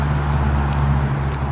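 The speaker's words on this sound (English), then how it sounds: "sorry about the traffic noise" Steady traffic noise from a busy road beside an abandoned 1938 house, a continuous low rumble with a constant hum and a couple of faint passing hisses, fairly loud and unbroken.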